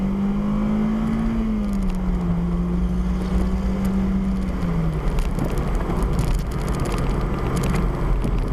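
A 2001 Toyota MR2 Spyder (ZZW30) naturally aspirated engine revs steadily at higher RPM, a loud continuous drone holding pitch for several seconds, then dropping and blending into broad road and wind rumble with no talking.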